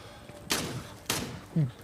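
Two loud, sharp shotgun blasts about half a second apart in the zombie shooter Into The Dead 2, each with a short decay. A voice speaks briefly right after.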